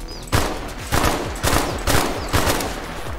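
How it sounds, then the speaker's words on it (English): Repeated bursts of automatic gunfire from enemies firing back in a Vietnam war video game, five loud volleys in a steady rhythm about half a second apart, with no talking. "Okay, they're shooting back."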